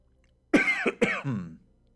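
A man coughs and clears his throat while a cough drop is in his mouth, a close, sharp burst of several harsh hacks ending in a rough rasp, alone in an otherwise quiet room.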